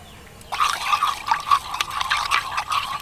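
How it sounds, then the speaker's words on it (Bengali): Warm water poured from a bowl into another bowl for naan dough, a steady splashing trickle starting after a brief quiet moment and running on close and fairly loud, with no voices. "এক বাটি উষ্ণ গরম জল দিয়ে দিচ্ছি"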